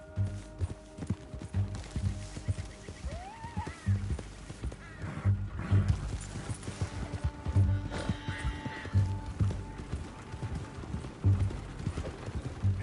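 Rhythmic hoofbeats of a horse galloping in a video game thud steadily and moderately close, with a brief whinny early on and light ambient game sounds underneath.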